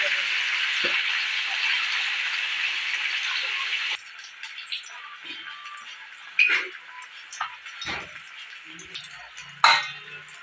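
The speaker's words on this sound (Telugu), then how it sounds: "వేడి నూనెలో ఇట్లా ఒక్కొక్కటి మంచిగా ఫ్రై చేసుకోవాలి" Pieces of coated fish frying in hot oil, a steady bright sizzle that drops suddenly midway, followed by softer crackle with scattered clinks and knocks.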